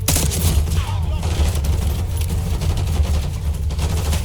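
Sustained gunfire in a French-language video game shooter, a dense continuous barrage of shots and booms with heavy low rumble and no clear gaps.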